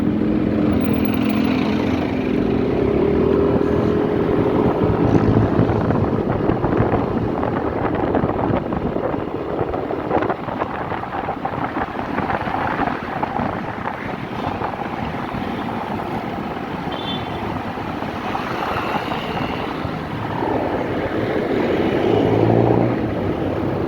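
A vehicle speeds up to overtake in slow night traffic, a steady rushing roar of engine and road and wind noise running loud and unbroken throughout, with no talk.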